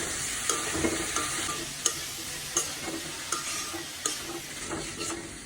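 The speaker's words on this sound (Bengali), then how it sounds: "সবজিটা দিয়ে দিচ্ছি ডাটা আর আলু এটাকে এখন সুন্দর করে মিলাই নিব" Vegetable stems and potatoes fry in a pan under a constant sizzle while a spoon stirs them, scraping the pan in regular strokes roughly every second, close and clear.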